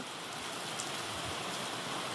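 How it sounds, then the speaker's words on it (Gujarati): Steady, dense monsoon rainfall pours down continuously, a broad hiss of heavy rain with no voices. "લગભગ 8 વાગ્યાથી વરસાદ આવી રહ્યો છે"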